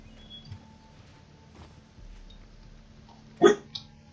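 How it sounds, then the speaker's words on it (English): A single sharp dog bark in the video game Alan Wake rings out over a quiet, humming background, followed by a brief fainter yelp. "you're barking for no goddamn reason."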